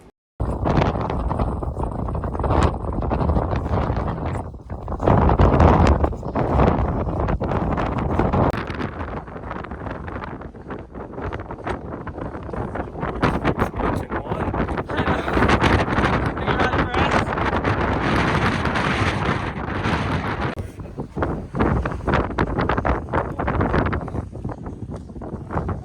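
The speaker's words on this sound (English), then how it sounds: "it was extremely windy once you reached the top of the Panoramic Express lift" Strong, gusting wind buffets the microphone at the summit of Winter Park ski resort, at the top of the Panoramic Express lift, a loud continuous roar that swells and eases for the whole stretch with no voices over it.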